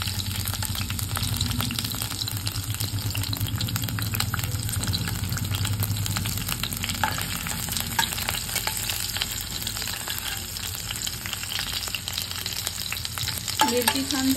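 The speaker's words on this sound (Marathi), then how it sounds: "इथे तेल आता छान तापलेलं आहे, आपण जिरे ऍड करून घेऊया. त्याच्यानंतर हिरवी मिरची मी ऍड करते." Cumin seeds and green chilies fry in hot oil, giving a steady, close sizzle with stirring clatter and a brief scrape near the end.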